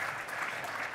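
An audience at a housing-industry conference talk claps briefly. The steady, soft clapping runs for about a second with no voices over it.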